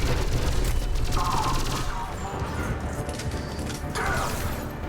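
Automatic gunfire from armor-piercing ammo in a sci-fi shooter video game about galactic annihilation, a dense, loud fusillade of rapid shots with crashing impacts, sustained throughout amid game effects.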